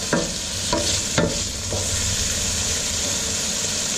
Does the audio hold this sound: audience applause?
no